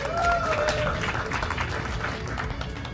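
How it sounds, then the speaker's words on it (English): A crowd on a CNU33 bike-tour event between Cambridge and Boston applauds steadily for the whole stretch, a dense wash of clapping with a voice speaking over it near the start. "another big round of applause for Ben, Lucy, and everybody else."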